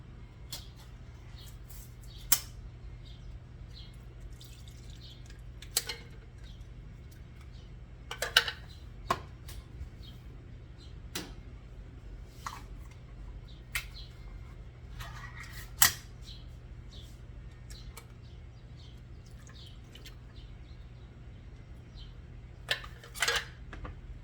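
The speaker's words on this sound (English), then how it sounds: "Right now I'm opening 4 cans of sardines and I'm going to drain them" Scattered metallic clicks and taps of four cans of sardines in soybean oil being opened and drained, sharp and close against a quiet kitchen background with a steady low hum.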